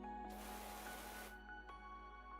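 A pressure washer spray in the video game PowerWash Simulator gives a steady, broad hiss that lasts about a second before cutting off, over a constant low hum, with faint tones continuing afterward.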